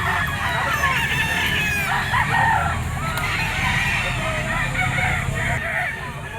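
Bull stag roosters crow repeatedly at a busy poultry market, loud and overlapping, with steady crowd chatter and bustle underneath.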